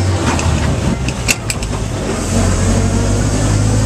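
A 1948 Dodge Express truck engine drones low and rough in third gear, a steady close mechanical rumble that builds slightly, with a couple of short clicks partway through.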